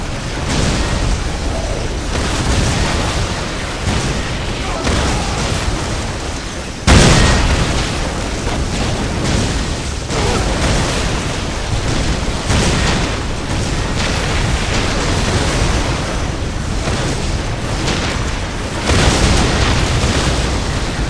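Whirlwind artillery tank shells in Dawn of War explode in a dense, continuous barrage of loud, rumbling booms, with a sharper blast standing out partway through.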